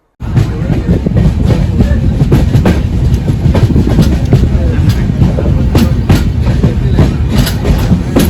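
The Konkan Kanya Express rolls into a crowded Konkan Railway station, loud continuous rumble with rhythmic clickety-clack of wheels over rail joints, people's voices mixed in the din.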